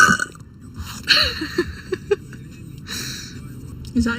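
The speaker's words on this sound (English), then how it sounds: "There, I burped 7 times." A girl burps repeatedly on a livestream with friends, several loud throaty belches spaced unevenly and close, with voices talking and reacting around them.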